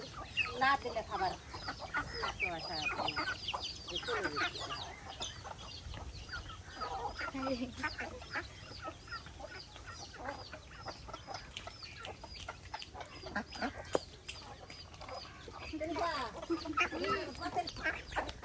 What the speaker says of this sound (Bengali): দেশি হাঁস মুরগি